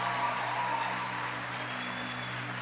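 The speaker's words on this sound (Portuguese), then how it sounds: "Vamos dar uma salva de palmas para a pastora de vocês?" A church congregation applauds their pastor, a faint, even wash of clapping heard from a distance over a steady low hum, with no clear individual claps standing out.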